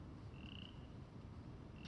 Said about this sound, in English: You can even hear some frogs in the background here